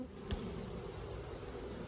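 Honey bees buzz steadily around an open hive as frames are worked, a faint continuous drone with one bee briefly passing close.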